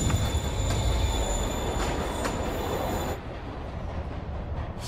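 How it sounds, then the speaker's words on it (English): A moving train in the video game Marvel's Spider-Man Remastered, loud rumbling rail noise with high squealing wheel tones and rhythmic clacks, easing after a few seconds. "Train's moving."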